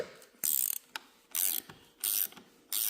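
A ratchet clicks in four short bursts while loosening a 13 mm bolt on the power steering pump of a 1997 Ferrari F355. The bursts are close, bright and evenly spaced, with brief pauses between them.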